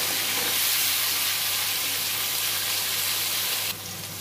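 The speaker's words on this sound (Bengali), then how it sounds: "সবজি ভাজা হয়ে গেছে" Pieces of papaya, potato, carrot and pumpkin fry in hot oil with a loud, continuous hiss and sizzle that drops in level just before the end.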